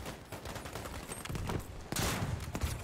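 Battlefield V battle gunfire comes in rapid overlapping bursts of shots, loud and close, with a heavy burst near the end, over a constant rumbling combat background.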